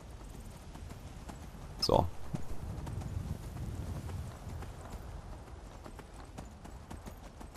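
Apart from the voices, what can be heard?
horse hooves while riding in video game Skyrim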